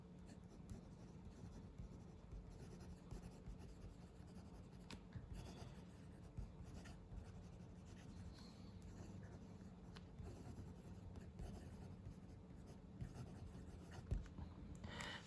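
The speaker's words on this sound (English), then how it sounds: "in this writing sample, it's writing fairly well. It's writing fairly smooth. You can hear it's a fairly smooth nib." A Majohn P136 fountain pen nib moves over paper in soft, continuous scratchy strokes, faint and close, with a few slightly louder scrapes near the end.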